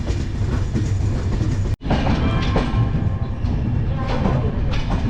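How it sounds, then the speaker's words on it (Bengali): A passenger train pulls into Malda Town station with a loud, continuous rumble and rhythmic clickety-clack of wheels over rail joints. There is a brief sharp dropout partway through, and no voices. "এই মালদা ঢুকছে আমাদের ট্রেন"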